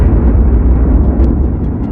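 A huge explosion sound effect marking the birth of the Sun: a loud, deep, rumbling roar that stays heavy and sustained for two seconds, with a faint pop partway through.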